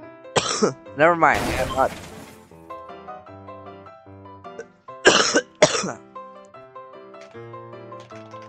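A few sharp coughs in the video game, with short bursts near the start and a pair again around the middle, set against steady background music, with a brief spoken line in between.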